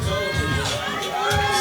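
Crowd cheering and whooping at a boxer's ring walkout during a live boxing event, a loud dense roar of many voices swelling continuously with shouts rising through it.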